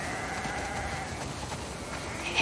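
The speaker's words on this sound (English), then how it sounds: "We definitely have way too many sheep." Sheep in The Last of Us Part II bleat faintly on a farm over a steady background hum, with soft scattered calls and no talking.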